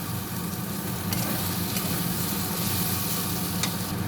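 Spice masala frying in a pan for a boal fish curry, giving a loud, continuous close sizzle and crackle with a few faint scrapes from stirring, no voices.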